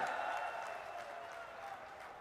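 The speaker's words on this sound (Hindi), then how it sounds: "जोर से ताली बजाइए लुम्बाराम जी के लिए।" A large crowd at a political rally in Rajasthan claps in a faint, distant wash of applause that fades gradually over a couple of seconds.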